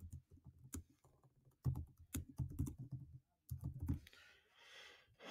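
Clicks of a computer keyboard as a description is typed into a Google Calendar event, bursts of quick, close keystrokes with short pauses, quiet and with no voice over them.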